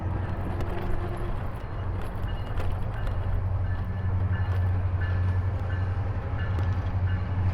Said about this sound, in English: Yo, let's race the train.